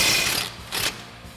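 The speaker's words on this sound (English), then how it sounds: "we're going to go ahead and remove our lower shock mounting bolt. So we'll grab our 18 mil socket on our impact" Impact wrench with an 18 mm socket spinning off the lower shock mounting bolt on a 2016-2024 Camaro, giving a short mechanical rattling burst followed by a second brief buzz, fairly quiet.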